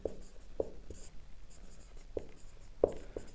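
Chalk tapping and scratching on a board during a physics lesson, a few sharp taps and short strokes spread over a few seconds, faint and close with room noise behind.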